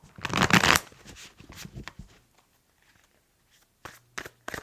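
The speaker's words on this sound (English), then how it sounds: "these are just flipping, so we're going to do a good shuffle" A deck of tarot cards being shuffled close up, a dense burst of riffling and flapping near the start followed by softer scattered card handling, then a few brief muffled knocks near the end.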